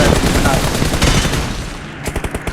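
M4 rifle fire in the BGMI mobile game, with a loud dense burst that fades and is followed by a tight string of rapid separate shots at the end.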